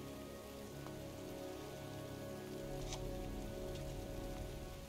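Heavy, steady rain pours down in a cemetery in the 2010 video game Heavy Rain, a dense continuous hiss of drops on surfaces that stays loud and even throughout with no voices.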